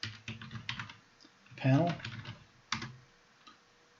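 Typing on a computer keyboard during a GUI programming lesson: soft, irregular key clicks in short bursts, with someone talking briefly over part of it.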